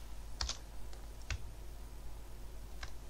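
A computer keyboard Shift key press and right mouse click while building a base in a modded game: a few sharp, isolated clicks at a quiet desk, spaced irregularly over low background hum.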